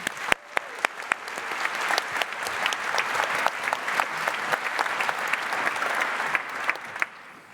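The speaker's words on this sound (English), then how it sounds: "So give an applause, please." Sustained audience applause at a security conference talk, a dense steady wash of many hands clapping with a few sharper close claps, filling the room for several seconds before cutting off.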